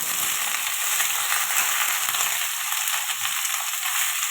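Malabar spinach, potato and ridge gourd sauté in a wok with a steady, dense sizzle and faint stirring scrapes, close and continuous with no talk.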